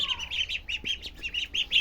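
Peking ducklings peep in a cage on a duck farm: a rapid, steady series of high, thin chirps, close by and fairly faint, with no talking.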